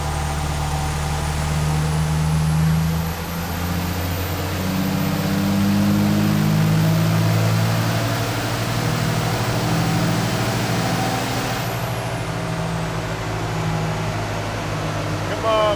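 A Cummins diesel-swapped International Scout runs hard on a dyno, a loud sustained drone that climbs and holds for several seconds before the whine fades as it backs off.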